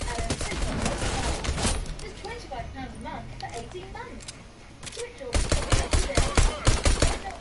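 Pistol gunfire in Ghost Recon Wildlands, loud rapid bursts of close shots at the start and again near the end, with a quieter stretch between carrying bird-like chirps and game ambience.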